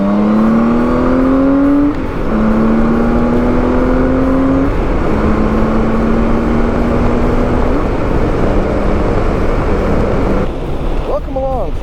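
A Honda Goldwing motorcycle rides along a road near Tampa, Florida. A loud, steady engine drone with whooshing wind noise rises in pitch through each gear, then drops at every shift, several times in a row.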